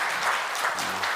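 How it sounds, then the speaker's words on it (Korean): Church congregation clapping to welcome visiting family members during a Korean service, a brief burst of dense, even applause filling the room. "지금 박수로 환영하겠습니다"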